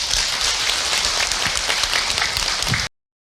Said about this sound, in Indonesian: Selanjutnya tepuk tangan Bu untuk Ustaz Encep